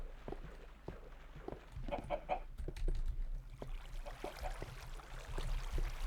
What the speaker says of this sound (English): Oh, wait, is a chicken in the water?